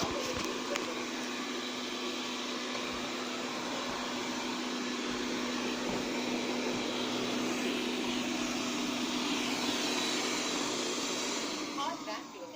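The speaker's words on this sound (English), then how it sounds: "Vacuum and mopping." A Xiaomi Mi robot vacuum-mop vacuums and mops at once, giving a steady, even motor hum with a faint constant whine that runs unbroken for the whole stretch before easing slightly at the end.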